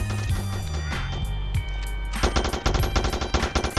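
Rapid automatic gunfire rattles in a Christmas-themed Spider-Man video game, loud, close bursts of shots stuttering over a steady musical backdrop, growing denser in the second half.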